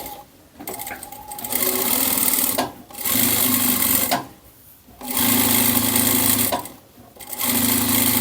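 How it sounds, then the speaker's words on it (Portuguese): Close, loud sewing machine stitching elastic onto the hem of a knit blouse, running in three long bursts separated by brief pauses. "eu vou passar o elástico aqui na barra da minha peça, bem próxima aqui à borda"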